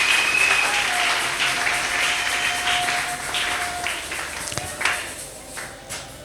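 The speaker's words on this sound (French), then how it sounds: "Acclamez le Seigneur." Church congregation applauding steadily for several seconds, a dense wash of clapping that thins slightly toward the end, with a few sharp louder claps near the close.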